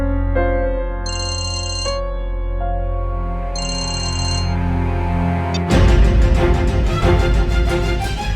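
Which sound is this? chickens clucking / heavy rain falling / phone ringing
phone ringing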